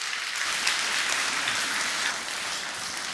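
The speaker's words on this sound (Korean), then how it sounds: "우리 설대용 목사님, 우리 큰 박수로 우리 환영하도록 하겠습니다" A church congregation claps in welcome for the pastor before a sermon, a steady, full round of applause lasting a few seconds and easing slightly toward the end.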